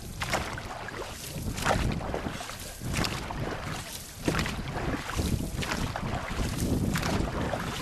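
Boat paddles dip and splash through water in a loose rhythm during Thai longboat racing practice, with soft wind buffeting the microphone throughout.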